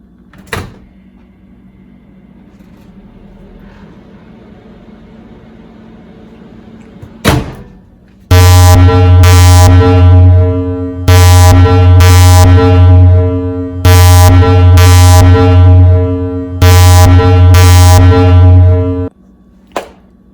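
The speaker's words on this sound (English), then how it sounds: "my microwave somehow started running when the door is open" A faulty microwave oven running with its door open hums loudly in four long, even bursts separated by short breaks, preceded by a couple of clicks and a low background whir.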